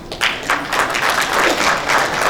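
Loud crowd applause for guests honoured on stage at a ceremony, close hand claps that swell in rhythmic waves and keep going throughout.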